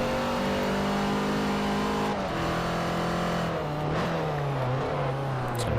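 Race car engine in Forza Motorsport 4 spinning its inside tire in fourth gear, a loud steady high-revving drone with shifting pitch and wheelspin whine throughout, close and continuous.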